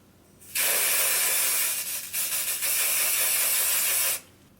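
A temporary hair color aerosol can sprays in one long, loud, steady hiss close by, with a slight dip midway, then cuts off sharply.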